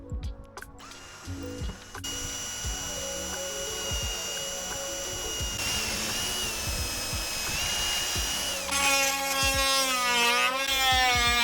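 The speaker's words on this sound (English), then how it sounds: "I'm going to drill lots of wee holes and then see if I can cut the circle out." A power drill whines loudly and continuously, its pitch shifting and rising as it bores many small holes through wood, close up with no talking.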